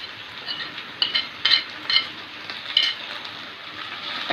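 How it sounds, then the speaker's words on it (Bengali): Chili and coriander powder sauté in a hot pan for beef korma: a bright, constant sizzle broken by several crisp spatula scrapes and clicks, close up and without talk. "এখন একটু কষিয়ে নেব।"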